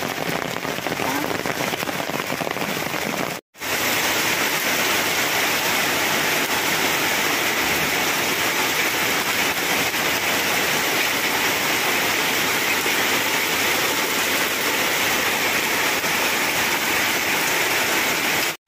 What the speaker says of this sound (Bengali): কি জোরে বৃষ্টি এলো দেখো